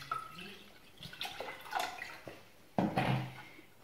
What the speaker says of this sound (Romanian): Pun apă din asta.